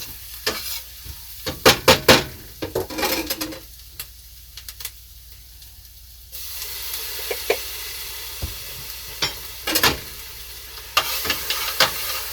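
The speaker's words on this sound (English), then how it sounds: "once it starts to caramelize a little bit, we want to add some garlic to it" Garlic tossed into caramelizing onions in a pan for baked rigatoni with meatballs, giving a steady close sizzle with repeated stirring scrapes and clicks, sometimes quieter, then a brighter, denser frying hiss.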